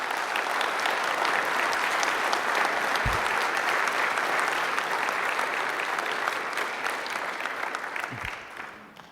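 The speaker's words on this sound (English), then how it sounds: "Thanks for the applause." Sustained applause from a large audience at a talk on neural interfaces, dense and steady throughout, fading slightly near the end.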